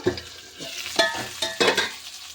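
Potatoes frying in a pan crackle and sizzle steadily while a spoon scrapes and stirs them in several quick strokes, close and clear.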